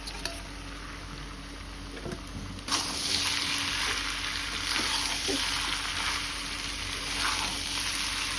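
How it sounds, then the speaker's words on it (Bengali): Pre-boiled spiced beef tripe fries with half-fried onions in a pan, a quiet sizzle that swells into a louder, steady crackling hiss partway through and keeps going without talk. "এখন এটাতে ভেজে নেব।"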